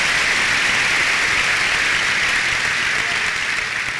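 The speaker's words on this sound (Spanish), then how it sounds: "Denle un buen aplauso." Church congregation applauding during a worship service, a loud, dense, unbroken wall of clapping that holds steady for the whole stretch.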